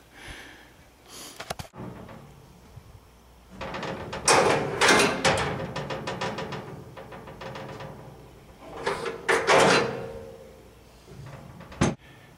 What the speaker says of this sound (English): So all I have to do is lift the lid up and it automatically drops into place.